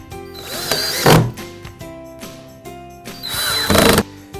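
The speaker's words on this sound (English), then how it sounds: "Next, we'll install the double head screws" A power drill drives double head screws into a foosball table, with two short whirring bursts that each rise to a loud whine, separated by quieter handling noises.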